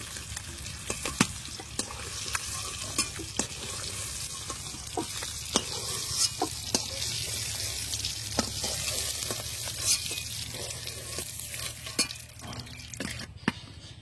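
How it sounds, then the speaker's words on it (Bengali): Eggs fry in a pan with a continuous moderate sizzle, punctuated throughout by sharp spatula scrapes and knocks against the metal. "ডিমগুলো ভেজে নিয়েছি, খুব বেশি ডিমগুলো ভাজার দরকার নেই"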